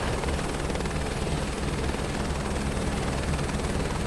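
Helicopter in the video game Microsoft Flight Simulator 2024, a steady loud rotor and engine drone that holds constant throughout with no talking.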